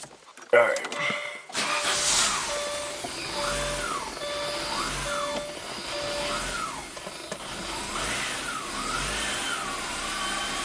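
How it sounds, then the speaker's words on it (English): A 1991 Audi 200 Quattro engine idles steadily after a sharp start-up burst, with the A/C compressor cycling on and a warbling whine rising and falling repeatedly above the engine hum. "run the car, let's see if that compressor kicks on"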